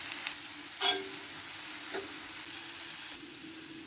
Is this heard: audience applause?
no